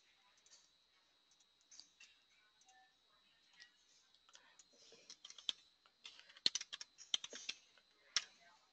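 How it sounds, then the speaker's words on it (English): Keys clatter on a computer keyboard as a name is typed into a search box, a quiet, irregular run of light taps and clicks that grows busier toward the end, with no talking. "Try typing President Barack Obama's name using capitals versus using lowercase"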